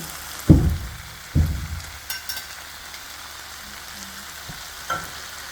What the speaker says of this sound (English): I'm going to just add my ackee to the pot